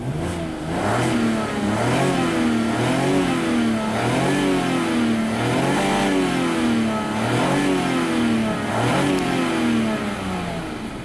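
A 2009 Volvo XC70 with a non-turbo 3.2-litre engine revs repeatedly, rising and falling in steady cycles roughly every second and a half, loud and close with no talk over it.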